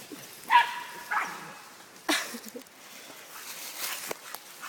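Dogs playing by a river give a few scattered high yips and short barks, with soft whimpers and splashy rustling between, fairly close and intermittent.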